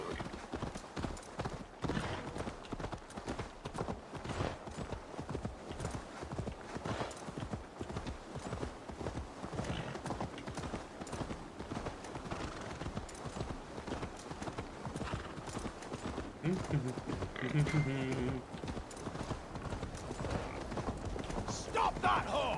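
Horse hooves gallop in Assassin's Creed Valhalla, a rapid, steady clip-clop rhythm that runs throughout at moderate loudness, with occasional whinnies and speech over the hoofbeats.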